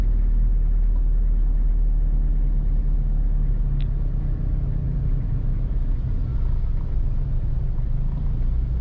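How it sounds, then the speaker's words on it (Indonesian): Busy road traffic on Jalan Raya Pogot in north Surabaya at dusk before the fast-breaking meal, heard from inside a moving car as a steady, dense low rumble of engines and tires throughout, with no talking. "sehingga memang ramai sekali teman-teman di Jalan Raya Pogot ini"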